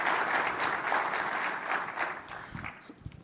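Warm audience applause at an automotive 5G summit panel, as the CTO of Stellantis is welcomed on stage: dense, steady clapping from a crowd that holds for several seconds, then thins into scattered claps.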